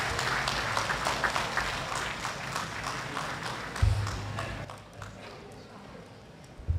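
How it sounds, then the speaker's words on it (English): An audience at a university system president's investiture ceremony applauds in a dense, sustained wash of clapping that fades toward the end, with a voice over a public address system briefly audible. "another resounding round of applause to the 8th President of the MSU System, SULUTAN Attorney Basari D, Mapupuno"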